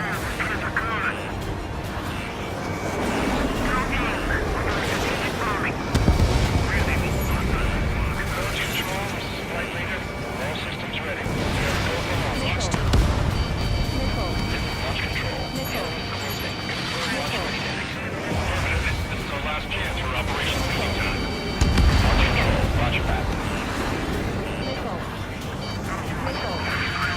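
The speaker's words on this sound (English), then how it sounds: "We're gonna continue bombing." Bombing explosions from a jet combat mission in the video game Ace Combat 7, with repeated heavy booms and rumbling blasts over a constant roar of aircraft noise, alongside speech and radio chatter.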